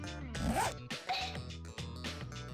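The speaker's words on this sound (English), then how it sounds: "Inside, Teddy suddenly undoes his zipper, huh?" A zipper being undone in the video game Persona 4 Arena Ultimax, a quick rasping zip with short ripping bursts set against game music, fairly close and clear with no talk.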